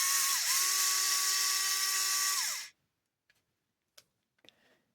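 A power driver whirs steadily for a few seconds while backing screws out of a Rlaarlo X12s 3S RC buggy, then stops, followed by a few light clicks and taps of parts being handled.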